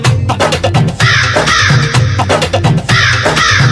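Loud, repeated crow-like caws ring out in a rhythmic pattern over a steady beat in a Bhojpuri Bol Bam devotional song, sounding as a sampled effect within the music.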